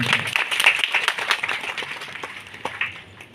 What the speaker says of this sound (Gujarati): આપણે સૌ તાળીઓના પ્રચંડ નાદ સાથે આ ક્ષણને વધાવીએ.